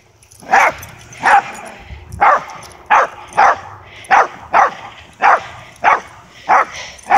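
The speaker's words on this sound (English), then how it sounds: "I'm gonna bark at everything today" A dog barks repeatedly at a steady pace, about a dozen sharp barks, fairly close and alone with no talking.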